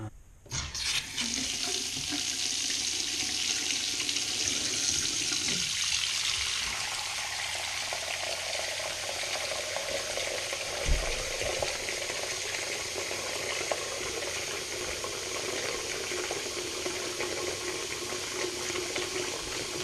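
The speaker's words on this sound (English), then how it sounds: "Cold water's on." Water gushes steadily from a newly installed Moen faucet with hot and cold on, a continuous hissing rush that stays loud and even throughout.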